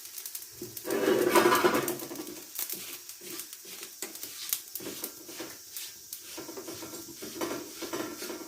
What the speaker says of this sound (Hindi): जीरे को हम तवे पर रोस्ट कर रहे हैं